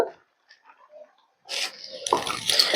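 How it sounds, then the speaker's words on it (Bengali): Water splashes onto a small amount of crushed ginger after a quiet start, a short bright pour of about a second, then louder, irregular wet trickling and spattering close by until the end. "দিয়ে দেব সামান্য জল"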